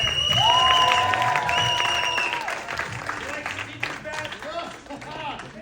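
An audience claps and cheers for the referee at a comedy sports show, the applause loud at first and then fading over several seconds as an announcer's voice carries above it.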